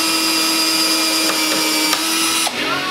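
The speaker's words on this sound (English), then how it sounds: "All right, now we'll put all of our screws in." A power drill whines steadily at close range, driving screws into a 2x6 wooden firework display rack, with the pitch shifting slightly as it works and a short drop near the end; no talking.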